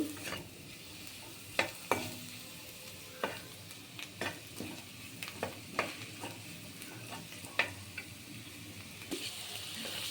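Vegetables for chapati paneer noodles fry in a pan, a soft continuous sizzle broken by repeated sharp scrapes and knocks of a spoon stirring, close by.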